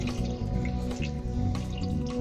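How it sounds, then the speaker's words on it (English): Homebrewed all-grain beer wort is poured and splashed into a vessel on the stove, a continuous gurgling, dripping stream of liquid heard up close and alone. "I'm going to carefully try to pour this without spilling a whole lot,"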